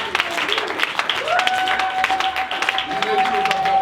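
A church congregation claps and cheers, with bursts of applause mixed with voices and a sustained high cheer or whistle rising over the crowd noise.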